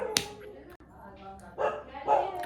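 A dog barks somewhere in a household, a sharp yelp near the start followed by a couple of muffled barks, faint and mixed with other indoor noise.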